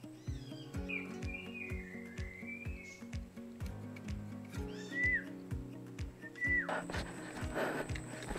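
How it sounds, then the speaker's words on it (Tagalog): Several birds sing and whistle in clear, rising and falling phrases over a steady rhythmic low thumping, with a brief noisy rustle near the end. "Ganda ng huni ng mga ibon."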